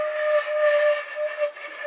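A steam-style train whistle in a demo instrumental track holds one long, steady tone for about two seconds, bright overtones stacked above it, loud and alone with no voices.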